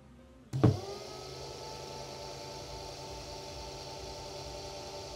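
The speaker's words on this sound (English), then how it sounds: "As we can see, the motor is rotating" High-current DC motor driven by a BTS7960 driver from an Arduino starts with a sharp jolt, then spins at full speed as a steady, close electric whir with a constant tonal hum.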